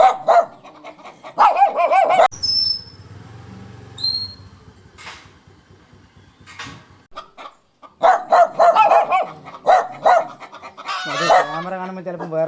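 Dogs that eat hibiscus flowers bark in loud bursts near and far, with chickens clucking and a rooster crowing in the quieter middle stretch before the barking resumes.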